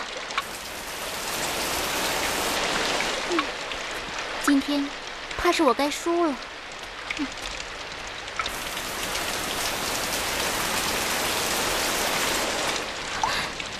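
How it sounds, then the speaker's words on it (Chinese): Rain falls steadily and loudly in a dense, even hiss. A voice speaks briefly over it midway, and other faint sounds briefly cut through the downpour. "怎么下雨了？"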